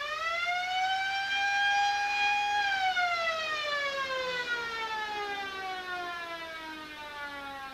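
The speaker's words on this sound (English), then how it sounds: "the quarter-time siren has gone" A loud, steady electronic quarter-time siren at a football grand final holds a sustained pitch, then slowly slides downward as it winds down and fades.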